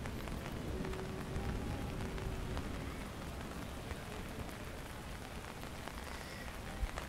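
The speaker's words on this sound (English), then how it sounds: "It's a very strong rain." Heavy, steady rain pours on surfaces during a rainy-day walk under an umbrella, a dense continuous hiss close by with no talking.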